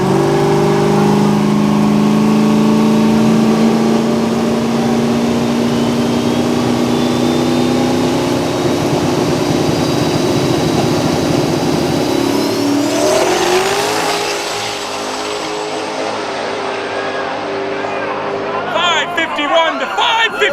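Two cars launch side by side in a drag race at the season's first race meeting, engines roaring loudly and revving up as they pull away, with crowd chatter and talk mixed under the steady engine noise.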